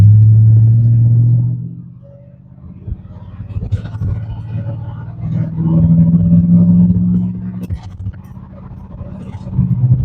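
A GMC Sierra pickup with a 5.3 V8 rumbles in a steady low idle, dipping quieter briefly before rising again, close and continuous with no one speaking.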